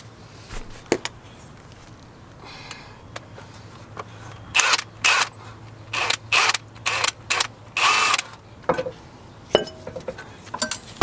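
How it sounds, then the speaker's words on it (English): Brake caliper being detached from the brake line on a Nissan 350Z: a sequence of close metallic clinks, ratcheting clicks and short tool bursts, irregular and alone without talk. "we're gonna go ahead and remove the caliper from the brake line"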